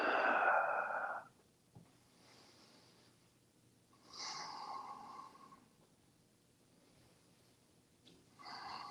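A person breathing audibly while holding a yoga pose: a loud, breathy exhale at the start, then quieter inhales and exhales around four seconds and again near the end, close and alone.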